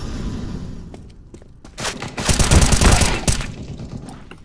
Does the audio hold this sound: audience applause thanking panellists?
no